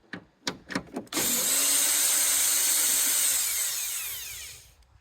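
A cordless drill drives screws while a third brake light is replaced on a 2015-2020 Yukon XL, Tahoe or Suburban: a few short whirring bursts come first, then one long steady high whine that slows and fades near the end.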